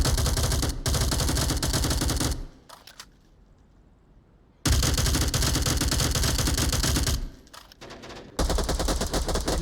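Rapid automatic gunfire from a competitive video game match, loud bursts in long sustained volleys separated by a quieter lull with a few scattered shots, then firing resumes near the end.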